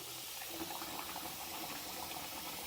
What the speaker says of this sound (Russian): Промываем рис до тех пор, пока с него не потечет прозрачная вода